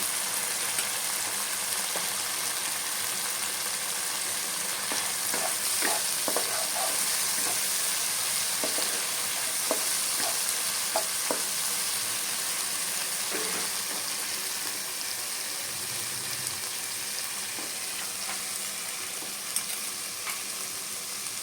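Drumstick vegetable fried with ground spices in a pan, a continuous loud hiss of oil with scattered scraping stirs and soft clinks of the spoon throughout, no voices.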